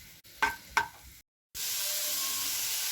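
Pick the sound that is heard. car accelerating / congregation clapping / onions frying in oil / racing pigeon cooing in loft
onions frying in oil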